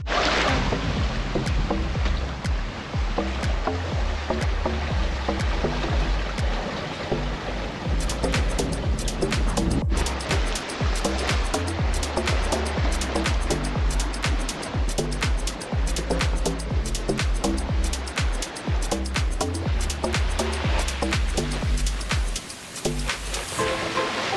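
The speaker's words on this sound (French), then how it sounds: "sensation de glisser sur l'eau sans un bruit, hormis les vagues sur l'étrave" Steady rush and splash of waves against a moving sailboat's bow, continuous and fairly close, with a faint wind-like hiss throughout.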